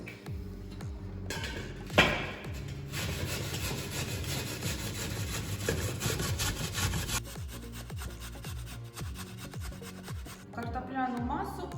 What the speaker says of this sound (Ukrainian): Беремо картоплю і починаємо терти на терці.